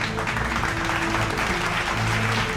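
An audience at an award ceremony for Kerala achievers in Dubai claps for the winners, a dense, continuous wash of applause filling the hall for a couple of seconds.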